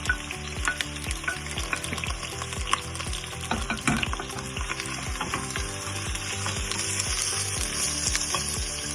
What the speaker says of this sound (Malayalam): ഇനി ഇതിലേക്ക് ഞാൻ ഒരു 2 വലിപ്പമുള്ള സവോള നീളത്തിൽ അരിഞ്ഞത് ഇതൊന്ന് വഴറ്റിയെടുക്കട്ടെ.